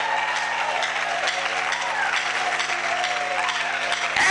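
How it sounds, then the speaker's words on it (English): A church congregation claps hands steadily for a few seconds during a Sunday service, a dense patter of applause with a low sustained hum underneath. "And clap your hands as you"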